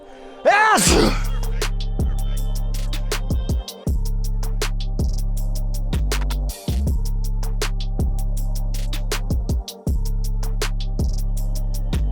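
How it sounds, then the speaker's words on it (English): A person lets out a single loud, sharp sneeze at the start, close to the listener, followed by a repeating rhythmic background pattern with no talk. "I'm gonna sneeze about right now"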